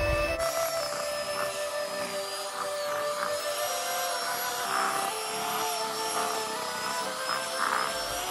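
An electric mixer whirs steadily as it creams room-temperature butter for a Christmas black fruit cake, a continuous motor hum that stays even throughout with no talking.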